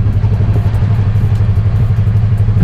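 A motorcycle engine with a CVT that reaches its limit too early runs close and loud, a steady, throbbing low drone with a rattling edge and no clear rise or fall in pitch.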